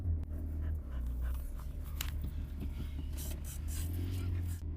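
A dog pants steadily nearby while shuffling and scraping as it moves about, over a low rumbling background.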